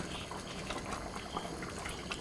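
Duck curry in coconut milk bubbling steadily over a medium flame as it thickens into a gravy, a soft continuous simmer with no talking.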